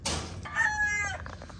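A rooster on a farm with a corral crows once up close: a loud drawn-out cock-a-doodle-doo that rises and then trails off, followed by a few short clucks.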